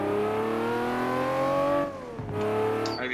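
A Lamborghini Murcielago engine mod in Assetto Corsa revs hard and loud, a rising tonal drone that dips sharply at a gear change before climbing again, close and without talk.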